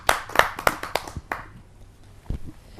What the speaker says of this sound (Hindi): आइए उनका स्वागत करते हैं आप सबकी जोरदार तालियों से।